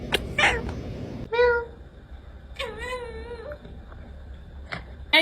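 Hungry cat meowing for tuna, several drawn-out wavering meows at close range, mixed with a brief human voice and household background noise.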